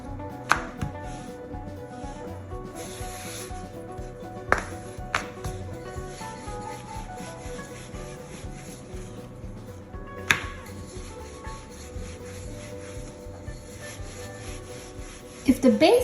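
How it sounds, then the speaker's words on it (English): A rolling pin works base dough for a stuffed Indian flatbread, giving soft, continuous rubbing strokes with a few sharp knocks over a steady low background hum; no one speaks. "The dough should be rolled evenly"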